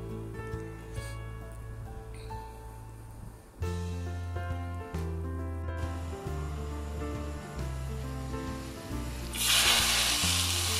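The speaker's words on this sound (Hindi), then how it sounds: "मैं लहसुन का लगाती हूँ और मिर्चें, तो मैं सिर्फ लहसुन डालूंगी।" Garlic and chillies sizzle in hot tempering oil for kadhi pakora, a soft frying hiss under steady background music that swells into a louder, brighter sizzle near the end.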